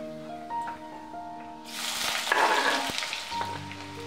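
Cumin seeds hit hot ghee in a pan with a sudden burst of loud, crackling sizzle that starts partway through and keeps spitting steadily to the end, with no talk over it.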